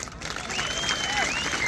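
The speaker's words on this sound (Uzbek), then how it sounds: "Rozilar qarsak chalsin." Spectators clap for a kurash wrestling bout in Qashqadaryo, a steady wash of applause building slightly, with crowd voices and a whistling tone weaving through it.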